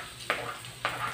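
Garlic frying in a non-stick pan gives a steady soft sizzle, with two brief scraping stir strokes about half a second apart, close and without talk.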